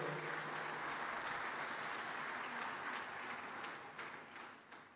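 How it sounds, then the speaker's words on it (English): A large conference audience at a banking annual meeting breaks into sustained applause, a dense wash of many hands clapping at an even level before easing off near the end. "That's your first round of applause for the day."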